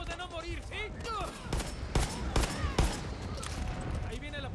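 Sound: gunfire in a video game

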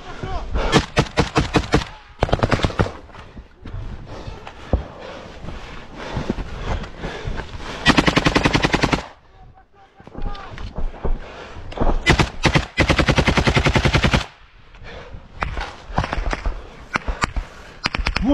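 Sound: automatic rifle gunfire in combat

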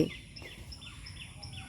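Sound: birds calling in the village countryside

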